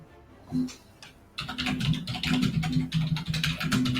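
Rapid, uneven clatter of keys on a computer keyboard, quiet for the first second and then continuous close typing that fills the rest of the clip, with no talk.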